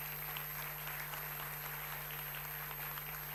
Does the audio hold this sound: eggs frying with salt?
no